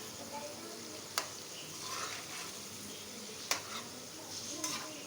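Kofta frying in oil gives a steady, soft sizzle, broken by a few sharp clicks and scrapes as the pieces are stirred and turned in the pan.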